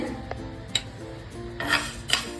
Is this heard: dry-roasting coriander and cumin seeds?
yes